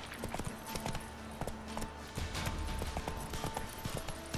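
Roach the horse's hooves clop in a quick, repeated gallop rhythm in The Witcher 3, close and continuous for the whole moment, with faint whinny-like tones mixed in.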